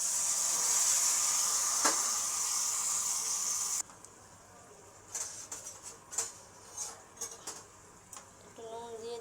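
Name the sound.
spices and tomato frying in pan for rohu fish curry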